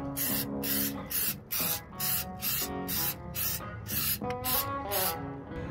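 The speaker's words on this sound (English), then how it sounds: "I'm just laying this on thinner coat than the other one. I'm just kind of splatting." Spray paint laid as a thin coat over dried primer on car parts of a Honda CR-V: repeated close, loud hissing bursts from a spray can, each about half a second, with brief gaps between them.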